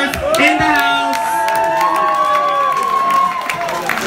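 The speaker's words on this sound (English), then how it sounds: "a big round of applause for all the songwriters in the house." A crowd cheers, whistles and applauds at a Eurovision pre-party concert at the Hard Rock Café, loud and sustained with shrill whoops over dense clapping for the whole stretch.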